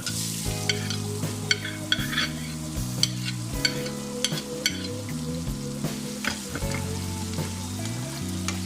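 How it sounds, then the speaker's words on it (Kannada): Onions frying in a pan for masala avalakki, with a steady sizzle and frequent spatula scrapes and clinks against the pan, loud and close, no voices. "ಈಗ ನಾನಿಲ್ಲಿ ಆನಿಯನ್ಸ್ ಹಾಕೊಳ್ತಾ ಇದ್ದೀನಿ"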